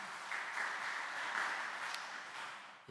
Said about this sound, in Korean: 우리 수고하실 분들 위해 박수로 격려해 주시기를 바랍니다.